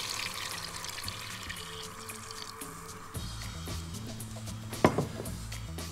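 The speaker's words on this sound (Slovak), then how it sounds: "Do hrnca prilejeme väčšie množstvo vývaru." Broth poured into a pot of pork-shoulder soup with kale and mushrooms, a soft, steady liquid splash with faint clinks of the pot, quiet and close.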